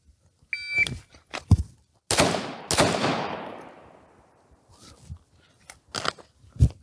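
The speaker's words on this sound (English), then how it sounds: "This is going to be a single-handed draw with 2 shots into the head box with 1 hand." Two sharp, loud pistol shots fired one-handed from the draw at close range, spaced about half a second apart, each ringing out in a long fading echo, with small clicks and handling noises before and after.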